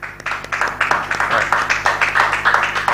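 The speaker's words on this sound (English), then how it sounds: "I think that this particular spot deserves a round of applause." Audience at an entrepreneurship foundation's graduation ceremony in Nigeria giving a round of applause, heard as distinct, rapid, rhythmic claps that keep an even pace throughout.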